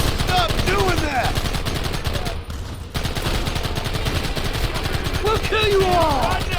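Sustained gunfire from Red Dead Redemption, a steady roar of rapid shots with game voices shouting over it and a brief dip near the middle.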